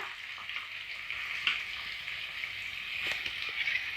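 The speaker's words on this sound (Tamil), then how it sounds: "வெங்காயம் நல்லா கோல்டன் ஃப்ரை ஆகிற வரைக்கும் வதக்கி விட்டுக்கிட்டே இருக்கணும்" Small cut onions fry in a pan for a dry fish gravy, giving a faint, steady sizzling hiss with occasional light scraping stirs.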